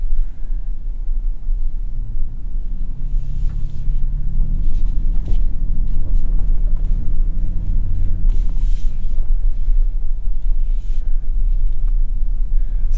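A 2022 Toyota Tundra TRD Pro driving off-road, heard as a steady loud low rumble with engine drone and some faint rattling over rough ground, plus wind buffeting, no talking.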